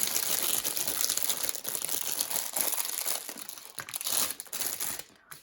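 Continuous crinkling of thin plastic being handled up close, a busy rustle that keeps going before tapering off with a few last crackles.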